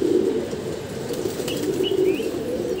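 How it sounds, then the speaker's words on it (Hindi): A wild pigeon beats its wings in a steady, close, flapping rustle that lasts throughout, with a few faint chirps rising briefly near the end. "दोस्तों जंगली कबूतर है देखिए आप"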